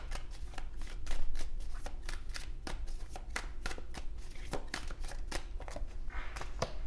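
A deck of tarot cards is shuffled by hand at close range, giving a steady run of rapid, crisp riffling snaps with no voice over it.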